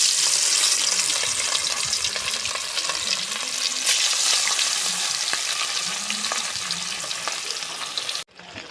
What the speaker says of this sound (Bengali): তেল গরম হয়ে গেছে, মাছ দিচ্ছি।